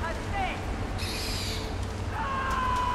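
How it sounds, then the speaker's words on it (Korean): An owl in the video game Far Cry Primal answers a call with thin, sustained tonal hoots that drift over steady game ambience. "올빼미를 부르고"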